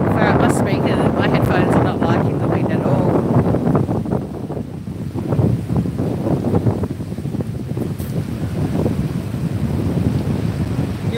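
Heavy wind buffets a microphone on a beach in a steady, loud rumble that never lets up, with a person talking under the noise and faint surf and breeze behind it.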